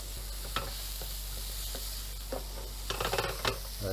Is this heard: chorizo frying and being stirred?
yes